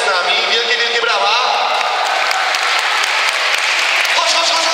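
A crowd at a children's charity show welcomes the young artist Marcel with steady, thick applause that carries on throughout, mixed with loud voices and cheering over it.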